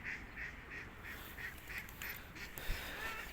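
Ducks quack in a park where pigeons gather, a run of about eight evenly spaced nasal calls, fairly close and moderately loud, with a faint low rumble beneath.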